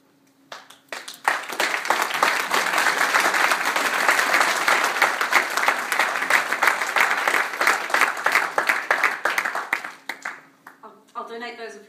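An audience bursts into applause after a motivational talk, a sustained, loud roar of many clapping hands lasting around ten seconds before fading, followed by a voice starting to speak.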